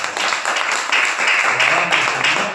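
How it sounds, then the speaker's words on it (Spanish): A church congregation claps loudly during a Spanish-language service, a brisk, dense round of applause with a slightly uneven rhythm that holds strong throughout. "Den un fuerte aplauso."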